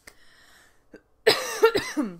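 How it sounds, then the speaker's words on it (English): A few harsh, close coughs come in quick succession after some faint background noise, loud and raspy with a throaty edge. "Pardon my coughing."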